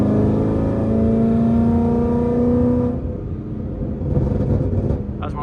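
A car engine held at a steady high rev around 4,000 rpm with a rising harmonic whine, then easing off near three seconds into a rougher, lower rumble.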